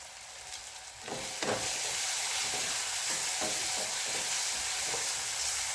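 Onion and tomato frying with salt in a pan, cooked in very little oil for a bitter gourd dish, a steady close sizzle that swells loudly after a quieter start, with occasional stirring scrapes.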